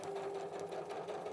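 A domestic sewing machine stitches through fabric in a steady, continuous mechanical whir, close and loud for the whole stretch with no talk over it.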